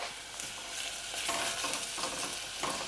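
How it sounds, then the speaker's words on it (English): Onions sweating in a pan for a basic tomato sauce, giving a steady close sizzle with stirring scrapes throughout and no talk. "We're sweating them to release lots of nice sugars from them, make them nice and sweet to help with that tomato sauce."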